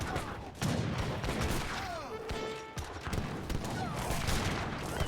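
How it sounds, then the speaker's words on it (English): Cannon and falconet fire in the Swords & Schiavoni strategy game, heard as dense, overlapping booms and crackling volleys that roll on continuously, with scattered whistling projectile tones over the battle din. "here we get the cannons putting in a lot of work against the infantry"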